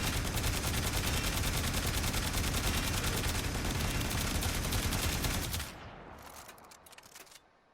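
Boltor Prime rifle in Warframe fires a long, dense rapid burst of gunfire for about five seconds, then cuts off, leaving a few faint scattered impacts and game sounds.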